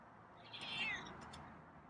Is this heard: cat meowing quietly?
yes